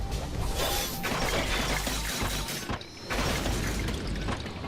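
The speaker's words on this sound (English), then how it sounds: "Saber runs, smashing away the swarming bone creatures." Saber smashing through swarming bone warriors in the Fate/Stay Night visual novel, heard as a continuous loud wash of crashing, shattering impacts and whooshes with a brief dip near the middle.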